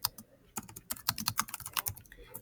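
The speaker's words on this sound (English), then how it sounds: "I can start typing in the title and author of my poem." Quick, irregular keystrokes on a computer keyboard as a poem's title and author are typed, close and fairly quiet, with a brief pause before a dense run of clicks.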